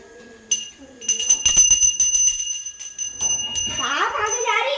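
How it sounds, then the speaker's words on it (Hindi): A hand bell rings during a Hindu aarti on a Navratri day, a bright continuous metallic ringing that sounds through nearby voices, with people talking over it toward the end. "हाँ घंटी बजाना"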